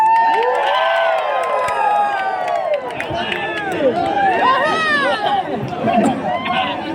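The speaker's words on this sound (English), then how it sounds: "Everyone, can we give a round of applause to all the participants?" A crowd at a village sports meet celebration cheers and shouts loudly and continuously, voices rising and falling in excited whoops, with only faint clapping mixed into the din.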